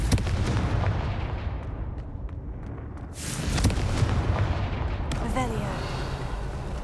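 The Confringo explosive spell going off in the video game Hogwarts Legacy, heavy booming blasts and rumbling bursts layered over one another, loud and dense, with a fresh burst partway through.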